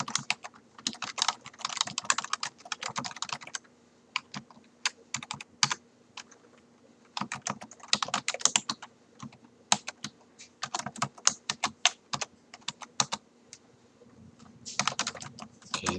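Typing on a computer keyboard, with bursts of rapid, close clicking separated by short pauses. The keystrokes are clear and steady, and no voice is heard.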